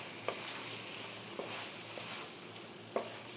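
Nadan chicken frying in a pan with half a lemon squeezed over it, a steady soft sizzle with a few faint clicks of stirring, quiet and close.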